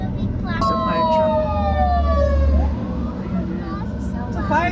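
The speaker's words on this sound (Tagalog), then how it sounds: "It's a fire truck." A fire truck siren wails while passing on the road, its pitch sweeping down as it goes by. It sits over the rumble of a car interior, with faint voices nearby.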